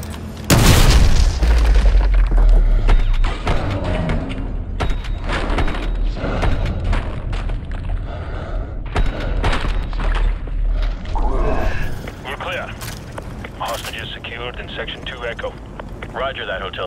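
A breaching charge detonates in the shooter game Call of Duty Modern Warfare 2 with a loud, close boom. Rumbling, clattering combat noise and thuds follow, with a gusty, wind-like roar near the end.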